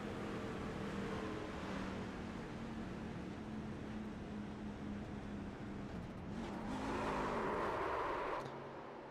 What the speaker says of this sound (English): That's a downshift gone wrong